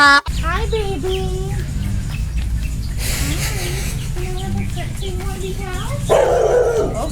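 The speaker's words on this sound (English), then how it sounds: "the angry dog, he's just scared" A frightened dog on Half Moon Cay island barks and whines repeatedly, close and loud, in uneven bursts across the whole stretch with outdoor background noise.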